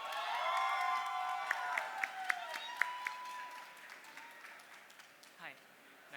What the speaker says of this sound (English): applause for Ryan Wibawa of Indonesia